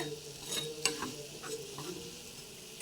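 Soft, steady sizzling of food frying in oil, with a few faint clinks and stirring sounds over the hiss.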